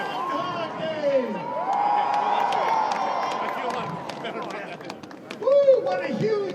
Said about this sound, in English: what a huge crowd